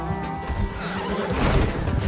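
A horse in Red Dead Redemption 2 lets out a loud, close whinny that rises and wavers for about two seconds, with faint game background and hoof noise underneath.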